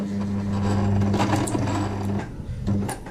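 Domestic sewing machine stitching a straight seam forward, a steady loud motor hum with rapid needle clatter running alone, stopping briefly near the end and then starting again.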